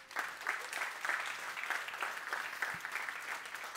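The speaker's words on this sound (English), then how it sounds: "Please give him a round of applause." A live seminar audience applauds in a steady round of clapping, even and sustained throughout, with no voices standing out above it.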